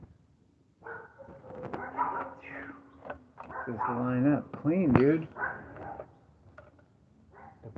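Dogs bark nearby in a run of sharp, tonal yips and bow-wows that rise and fall, mixed in with casual talk from a man during a bottle-cutting session.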